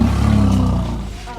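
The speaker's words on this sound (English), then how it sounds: "They're rumbling." Elephants make low rumbling vocalizations, a deep, close, steady drone lasting just over a second and fading slightly toward the end.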